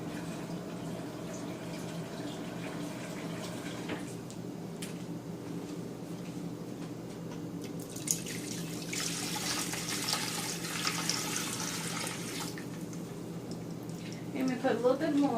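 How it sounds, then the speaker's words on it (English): Tap water running into a pot for brining chicken, a steady pour that swells louder midway, with a voice talking quietly underneath. "Get some more water on here."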